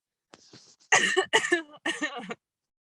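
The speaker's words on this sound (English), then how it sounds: "I'm coughing again" A close fit of coughing: a small hack, then three harsh, rasping coughs in quick succession, loud and alone.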